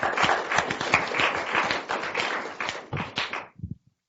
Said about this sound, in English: let's give Melissa a round of applause again